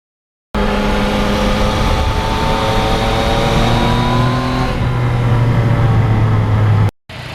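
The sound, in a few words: motorcycle riding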